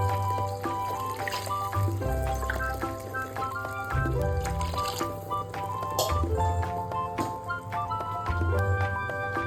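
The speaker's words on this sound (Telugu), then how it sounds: "6 గ్లాసుల వాటర్ వేసుకుంటున్నాను" Water poured from glasses into a pot of oats, six glasses added for a vegetable oats dish; a steady pouring and filling sound runs throughout with some tonal clinks and harmonic background.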